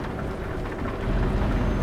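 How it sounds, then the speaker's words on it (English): A thunderstorm in Euro Truck Simulator 2 brings heavy rain and a deep rolling rumble of thunder. The roar is close and loud, and swells in the second half. "It's getting foggy now, and lightning, and rain."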